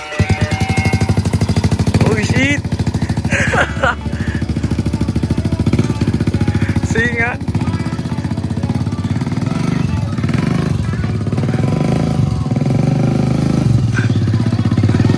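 A motorcycle engine runs loud and close the whole time with a steady, rapid throbbing chug, while people talk over it.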